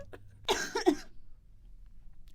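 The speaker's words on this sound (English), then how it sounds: "cut out my cough" A single short cough, fairly close and clear, followed by quiet room noise.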